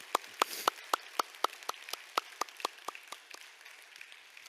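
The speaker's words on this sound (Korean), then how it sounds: "우리 선교사님 향해 우리 큰 박수와 축복의 박수를 올려드렸으면 좋겠습니다" A church congregation at a Sunday service claps for its missionaries: a sparse run of sharp, evenly spaced claps that starts firm and gradually fades, with no talking over it.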